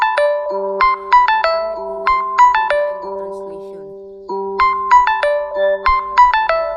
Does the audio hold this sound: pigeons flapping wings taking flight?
no